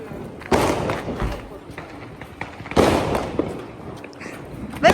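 Diwali firecrackers burst outdoors at night in two loud, sharp blasts spaced a couple of seconds apart, with crackling trails and people talking in the background.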